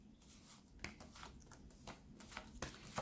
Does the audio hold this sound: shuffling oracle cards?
yes